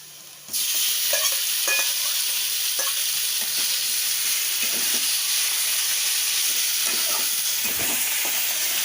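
Chicken pieces added to frying onions in a pan for honey chicken set off a loud, steady hiss after a brief quiet start, with occasional stirring scrapes and no voice.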